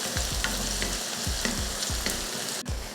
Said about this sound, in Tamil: அடுத்து வெந்தயம் பொரிஞ்சதுமே கொஞ்சம் கருவேப்பிலை, சின்ன வெங்காயம் சேர்த்துடலாம்.